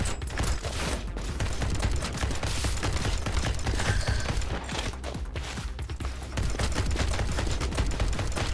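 Rapid gunfire shooting flame trails in the rogue-like dungeon-crawling shooter To Hell with Hell, with a fast, relentless stream of crisp, loud shots and mechanical clatter running nearly nonstop, briefly thinning midway before resuming.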